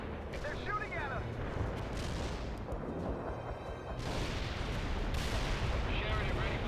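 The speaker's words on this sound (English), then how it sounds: "They're shooting at us!" Artillery and gunfire in the war video game WiC, a sustained loud roar of overlapping booms and shots with brief high whistling streaks, and faint voices beneath the barrage.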